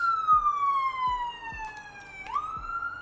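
A wailing ambulance siren sweeps slowly down in pitch and then jumps back up, loud and close, with faint thumps underneath.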